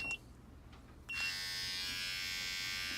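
A Gamma+ Absolute Hitter hair trimmer clicks, then switches on about a second in and runs with a steady close-up high-pitched buzz for the rest of the clip, with no speech.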